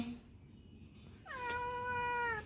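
A close, clear cat meow rings out in the second half, long and tonal, following a quiet stretch of soft background noise.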